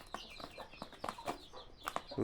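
Hens cluck nearby in a short burst of quick, scattered clucks, fairly faint, with no talking.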